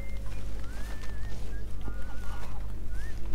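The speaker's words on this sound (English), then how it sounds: "Ooh, chicken." Chickens cluck in Red Dead Redemption 2 at a homestead, with short rising calls repeating over a steady low ambient hum from the game's outdoor setting.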